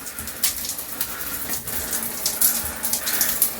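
Water runs steadily from a newly installed shower head, a continuous hissing spray that stays at an even, moderate level throughout.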